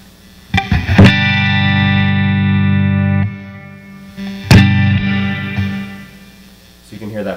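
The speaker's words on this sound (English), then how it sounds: "So you can hear that plate reverb." An electric guitar runs through a Dr. Scientist Reverberator pedal on its plate setting, with two sustained, distorted chords that ring out and decay into a subtle reverb tail. Nothing else is heard.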